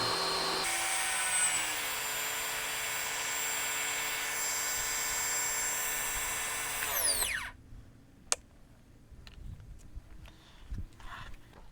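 A Ryobi 1800 PSI electric pressure washer runs without a nozzle, a loud steady whining motor hum for about seven seconds that winds down and stops, followed by quiet with a few clicks and handling noises.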